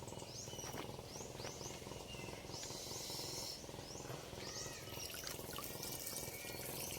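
Strong water gushes out steadily on an eggplant farm, a faint continuous rushing that runs throughout while birds chirp in the background.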